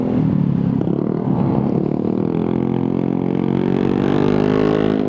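An Italjet motorcycle engine revs and idles loudly at close range at a motorcycle meet. It throbs with a raspy, clattering tone, rises in pitch as the throttle opens and holds a steady drone.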